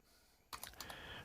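Quick keystrokes on a computer keyboard enter a verification code, a short burst of several crisp, close clicks after a quiet moment, with no voice.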